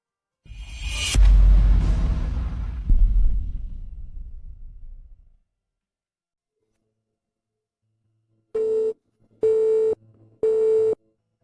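A mobile phone rings with three short, evenly spaced electronic tones after several seconds of silence, preceded by a loud rushing whoosh and fading noise.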